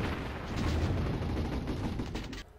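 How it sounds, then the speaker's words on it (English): Mortars in the strategy game Warzone 2100 pound medium cannon tanks, a dense run of overlapping muffled blasts and rumbling impacts that fill the span and then cut off abruptly. "let my mortars pound them instead of returning the favor"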